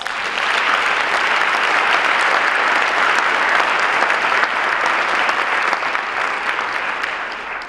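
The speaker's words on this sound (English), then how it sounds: "if we could give them a round of applause" A school-event audience applauds staff members with steady, dense clapping that stays loud and continuous throughout, easing slightly toward the end.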